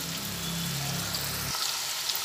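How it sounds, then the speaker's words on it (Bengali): Chopped onion fries in oil for chicken korma, a quiet steady sizzle with a low tonal hum that cuts out after about a second and a half, leaving only the crackle. "পেঁয়াজটা ভাজা হচ্ছে"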